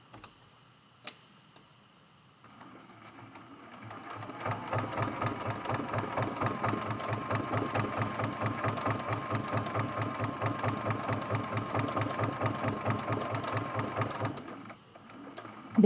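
A sewing machine stitches a quilt stem in green thread on black fabric near the quilt's edge, its needle running in a steady, fast mechanical rhythm for about ten seconds after a few quiet bumps, close and alone.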